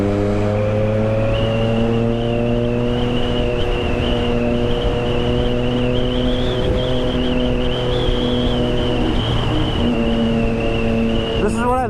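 Triumph Street Triple 675 motorcycle cruising in sixth gear on a foggy, freezing winter morning commute in Delhi, a steady droning engine hum with a high whine, held evenly and fairly loud throughout.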